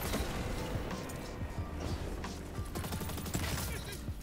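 Rapid gunfire bursts in a Destiny 2 6v6 PvP match, sharp cracking shots repeating in quick clusters over a busy, dense game mix with no pause.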